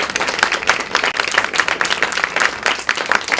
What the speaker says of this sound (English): I think we should all give a round of applause for anybody who's here for.